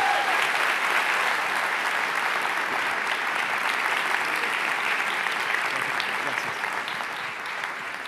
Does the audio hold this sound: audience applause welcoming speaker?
yes